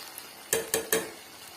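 Spice powder stirred in oil in a pan for temple-style tamarind rice, three quick scraping strokes close by with a soft sizzle underneath, then a quiet low simmer.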